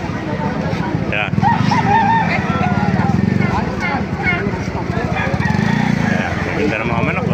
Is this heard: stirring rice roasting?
no